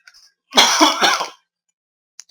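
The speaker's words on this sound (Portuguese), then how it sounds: "Acabei de tossir aqui." A single short, throaty cough or throat-clear, close and fairly loud, surrounded by near silence.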